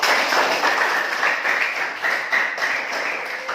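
A group claps steadily for a few seconds, a dense patter of hands with slight swells, moderately close.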